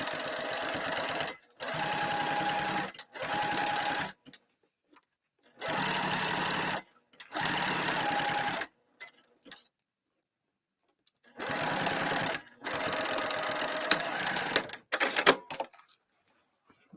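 A sewing machine sews a bag lining with a shortened stitch length, running in several loud bursts of rapid whirring stitches separated by silent pauses.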